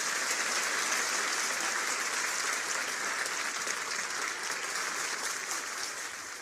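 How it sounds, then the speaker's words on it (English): Large rally crowd giving a big round of applause for Dr. Hak Ja Han Moon, a thick continuous roar of clapping, loud and sustained, tapering slightly at the end. "let me invite you to offer a virtual big round of applause for the true Mother"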